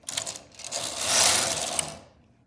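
A Silver Reed knitting machine carriage sweeps across the needle bed while knitting single bed float jacquard with pink yarn, a single smooth whirring pass that swells in the middle and fades out, close and alone.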